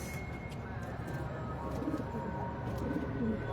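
Domestic pigeons coo in a low, soft, repeated pattern, a few muffled calls rising out of a steady background murmur, fairly close and not loud.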